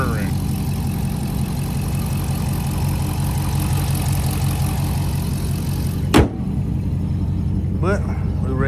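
A Dodge RT with a Scat Pack exhaust idles steadily up close, a deep even rumble holding throughout with a brief sharp knock partway in and a voice murmuring near the end.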